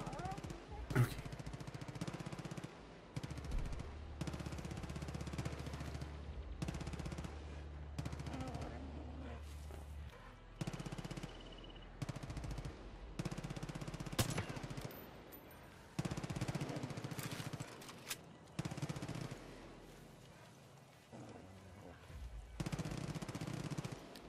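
Machine gun fire rattles through a Far Cry New Dawn firefight, with dense bursts of automatic shots going on almost without a break. A low engine-like drone runs underneath and voices talk over the shooting.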